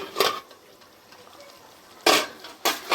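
A lid comes off a pot of butter chicken cooking on low heat, heard as a few sharp metallic clanks, one early and two close together near the end, with a soft simmer between them.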